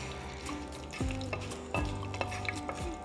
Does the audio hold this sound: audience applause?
no